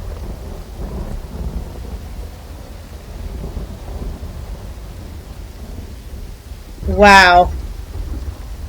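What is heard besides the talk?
rain and thunder in the rainy cleft, Uru video game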